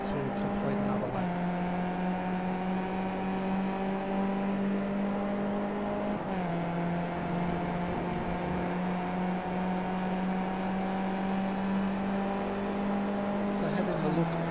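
A Skip Barber race car in iRacing accelerates through the gears at Interlagos with a steady, droning engine note. The pitch drops briefly at each upshift, and a commentator talks over it throughout.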